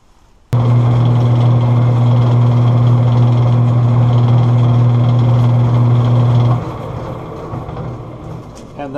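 A Boice Crane bandsaw with its lever set to the fast, disengaged direct-drive position starts abruptly and runs with a loud, steady motor hum and whir, then drops to a quieter spinning-down sound near the end.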